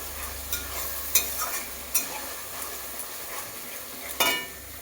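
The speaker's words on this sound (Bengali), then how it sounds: "রসুনটা একটু বেশিই দিচ্ছি, সামান্য একটু বেশি দিয়ে দিচ্ছি রসুনটা। এবার আবার একটুখানি কষিয়ে নিচ্ছি।" Chicken sautés with garlic paste in a pan for chicken kasa, producing a constant close sizzle with a few sharp scraping stir strokes and light clinks of a utensil against the pan.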